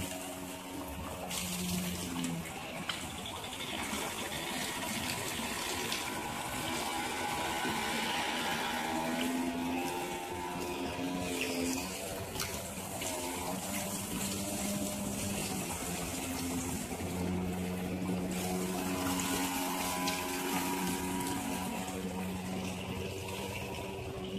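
Flowing water at a bamboo water feature at a family bathing spot in Agam, West Sumatra, makes a steady, continuous rushing and churning with a machine-like whirring quality, unbroken throughout with no voices.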